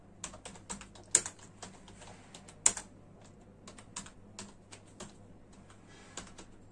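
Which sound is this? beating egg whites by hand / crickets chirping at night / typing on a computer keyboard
typing on a computer keyboard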